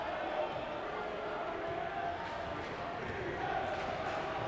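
High school students from Silver Lake cheering at a boys basketball game against Quincy in 2007, a steady, dense crowd noise that holds at an even level throughout, with commentary heard over it.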